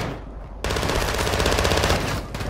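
Rapid automatic gunfire in a video game, a loud sustained burst of fast shots starting abruptly and running for about two seconds.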